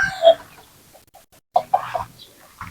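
Young roosters, baby stags tied up on tethers, give short clucks and a brief squawk near the start, then a cluster of clucking about halfway through, close by with quiet gaps between the calls.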